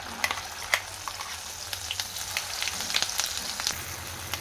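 Ground masala paste with shahjeera fries in hot oil, sizzling and crackling steadily with scattered sharp pops and stirring scrapes, close and moderately quiet, with no voices.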